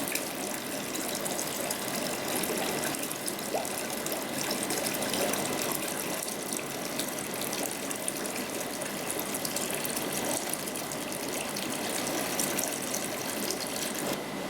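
A gravel cleaner siphons water from a fish tank with a continuous close hiss and gurgling rush, rattling faintly over gravel, and no voices.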